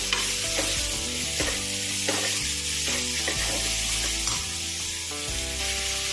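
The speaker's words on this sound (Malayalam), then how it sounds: "അതിലേക്ക് നമുക്ക് സവാള മുറിച്ച് വെച്ചേക്കുന്നത് അത് ചേർത്ത് ഇളക്കാം ചെറുതായിട്ടൊന്ന് വഴണ്ട് വരട്ടെ" Chopped onions sauté in a pan for tapioca biryani, a continuous bright sizzle with occasional stirring scrapes, partly buried under steady background music.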